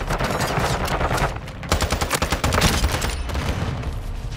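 Rapid automatic fire from the ISO Hemlock assault rifle in Modern Warfare 2 rattles on in dense, loud bursts with brief pauses between strings of shots.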